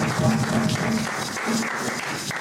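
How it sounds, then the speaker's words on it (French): Church congregation at a Sunday worship service applauding and cheering loudly to acclaim the Lord, a dense, sustained wash of clapping with mixed voices shouting underneath, steady throughout and close. "Que ce soit en acclamant le Seigneur, en acclamant très fort le Seigneur"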